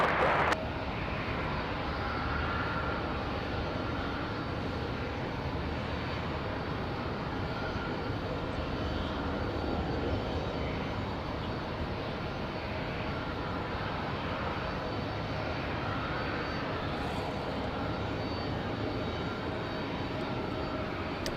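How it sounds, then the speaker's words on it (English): Newly painted JetBlue airliner at Raleigh-Durham International Airport at night, its engines a continuous broad roar lasting the whole stretch, heard from a distance without speech. "we got one of our nice newly painted JetBlues"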